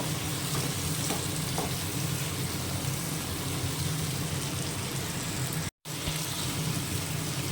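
Pumpkin, potato and eggplant frying together in hot oil for a mixed vegetable curry, a steady hissing sizzle with light stirring, broken by a very brief silent gap, no talking.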